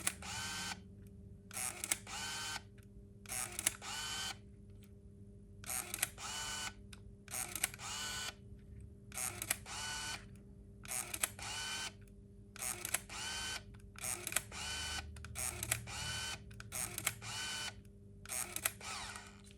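A Ricoh Myport Zoom Mini P compact film camera motor-rewinds its film, producing a series of evenly spaced, close, buzzing whirs separated by brief pauses over about twenty seconds, with no talk.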